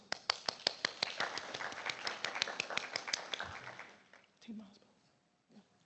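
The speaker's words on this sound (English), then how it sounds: "So a round of applause to all the teachers." An audience at a morning session in Osaka claps for the teachers: sharp, fairly close hand claps that dwindle and stop after about four seconds, followed by faint movement and a soft voice.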